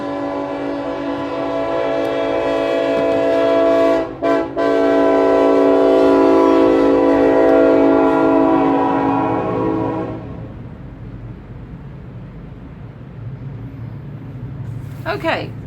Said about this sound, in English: now that the train has passed, it's still rumbling, but the horn's not blowing